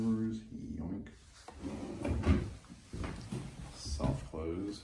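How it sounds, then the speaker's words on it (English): Wooden dovetail drawers on a double bathroom vanity in a house under construction slide open and shut, a few soft wooden knocks and rubs amid a person talking over it. "Dovetail drawers."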